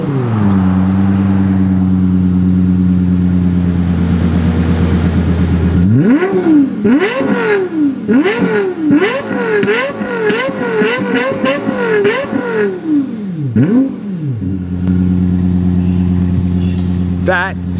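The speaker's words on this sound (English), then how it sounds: "He's about to start it up and give us some revs." A Lexus LFA engine idles with a low steady hum, then is revved repeatedly in quick, sharp high-pitched bursts that rise and fall, before settling back to a smooth idle; loud and close.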